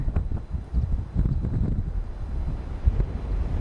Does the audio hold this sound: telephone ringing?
no